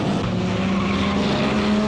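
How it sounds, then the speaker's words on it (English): IndyCar race cars and a Corvette pace car roar off at the start in Toronto, producing a loud, sustained engine whine with rising tones and some tire noise. "Green flag drops, and the Corvette thunders towards turn 1 in Toronto."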